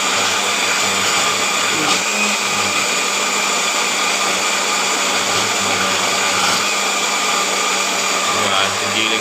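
A loud motorized grinder runs continuously while grinding spices for Batak Toba ikan mas arsik, a steady close whirring drone with faint talk underneath.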